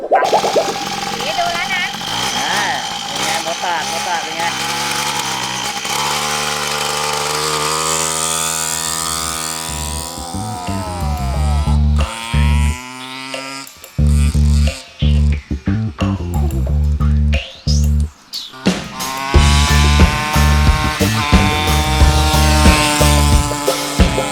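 A small off-road minibike engine, just refitted with smooth supermoto-style tires, runs loudly and close, revving and idling with shifting pitch and several brief cut-outs, while a voice talks over it in places.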